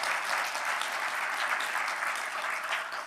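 Steady, dense applause from an audience at a Chamber of Commerce business luncheon, a continuous even wash of clapping lasting the whole stretch with no talking over it.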